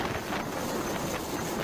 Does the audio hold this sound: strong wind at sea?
yes